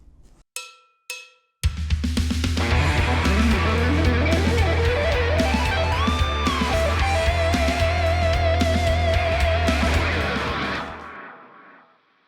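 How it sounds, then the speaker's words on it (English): After a few short clicks, a fast electric guitar lick climbs a blues scale using tapping and legato, dense and loud for about eight seconds before fading out, with no talking. "here we have an absolutely outrageous ascending tapping blues scale line"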